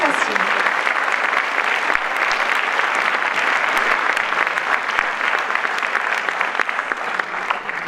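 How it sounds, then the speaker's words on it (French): Sustained audience applause at the closing ceremony of an international film festival in La Roche-sur-Yon, a dense, even roar of many hands clapping at full strength for the whole stretch, with faint voices underneath. "Allez-y, vous pouvez les applaudir parce que c'est pas un exercice facile."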